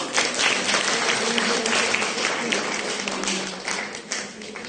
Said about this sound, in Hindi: स्वागत के लिए तालियां बजाने के लिए।